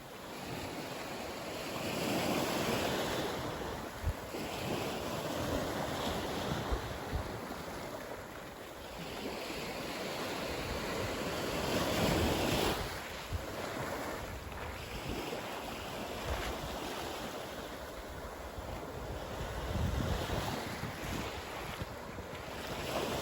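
Ocean waves roll onto the beach of Keewaydin Island, Florida, a steady surf wash mixed with heavy wind buffeting the microphone, swelling and easing in slow surges.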